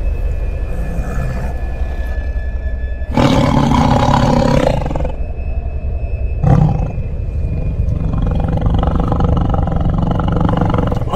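Cartoon tiger mother roaring, long loud bursts that rise and fall, with a shorter growl after them and a low rumbling tail, alone with no talk.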